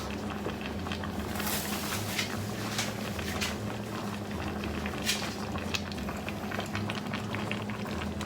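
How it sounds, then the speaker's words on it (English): Jambalaya rice with prawns and peppers simmering in stock in a pot, giving a steady, close bubbling and popping that continues throughout with no talking. "now I'm going to add the prawns and my peppers in so they can cook a little bit"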